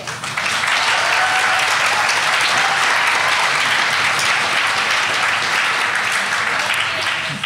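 An audience at a pub politics event on meat and the meat industry bursts into loud, dense applause that runs steadily for the whole stretch, with no clear talk on top.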